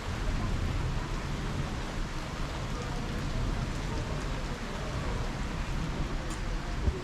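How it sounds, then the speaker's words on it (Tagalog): Steady rain falls outside a home, a continuous dense hiss of drops holding an even level throughout with no voices. "Mas kita yata dito yung ulan."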